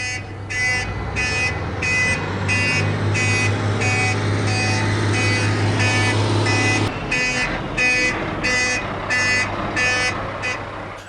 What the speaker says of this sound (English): What if I need to back the truck up?